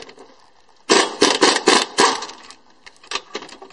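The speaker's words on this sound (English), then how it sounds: "Good jack and a good impact gun. Ingersoll Rand." An Ingersoll Rand half-inch drive impact gun fires a loud, close burst of rapid hammering rattles for about a second and a half, then a few shorter taps after a brief pause.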